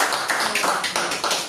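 A church congregation bursts into steady, dense applause for the Lord during a worship service, continuous rapid clapping filling the short moment with no voices over it.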